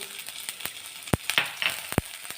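Ginger, chilli and garlic paste fries in hot oil over medium gas for lilva kachori filling, with a soft crackling sizzle punctuated by a few sharp spoon clicks against the pan.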